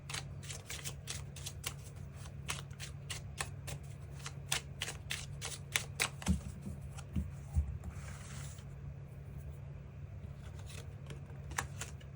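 Tarot cards are shuffled in a quick, steady run of crisp riffling snaps that carries on close and clear, with a brief softer sliding pass midway and no one speaking.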